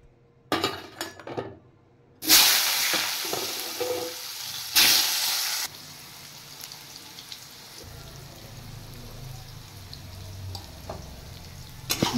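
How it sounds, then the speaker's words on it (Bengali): Potatoes frying in a pan on a gas stove for a fish curry: a close sizzling hiss that swells in loud bursts early on, then settles into a steadier low fry, with clinks of utensils against the pan. "এবার আমি আলুগুলো ভেজে নেব।"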